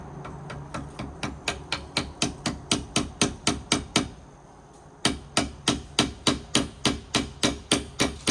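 Steady, evenly spaced hammer blows strike a wooden porch railing, loud and close, with a brief pause midway before the rhythmic pounding resumes.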